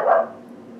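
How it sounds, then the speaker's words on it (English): A dog lets out a single bark in the room near a live oil painting session, loud at the start and fading into a quiet background. "Sorry for my dog."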